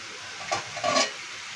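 Chicken pieces sizzle and sauté in a pan while being stirred, giving a soft frying hiss with a couple of brief scraping swells. The sound is close, moderately loud and free of talk.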